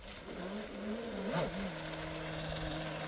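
A TFL Twin Cheetah RC boat on a 6S battery with a Dr. Props two-blade 1716 propeller runs at half throttle, giving a steady droning motor whine with a pitch that wavers and rises briefly, heard throughout without talk.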